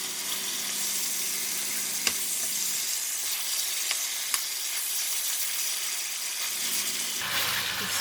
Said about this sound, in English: Make sure all of the side of the meat are fried nicely, just like that.